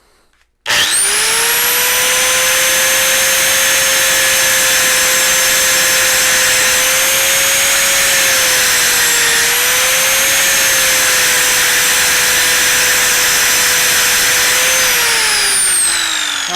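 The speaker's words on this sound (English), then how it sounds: "I'm gonna just grind this off very carefully" A grinder cuts off a fork valve body bolt on a 1986 Honda CR125 in one unbroken, loud, high-pitched whine lasting about fifteen seconds. The pitch dips slightly partway through and trails down as the tool spins down, with no talking.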